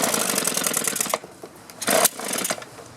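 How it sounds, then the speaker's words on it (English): A two-stroke string trimmer engine at half choke runs loud and rough with a rattling buzz, then drops away and gives a couple of sharp popping backfires before sputtering on. "Oh, a little backfire."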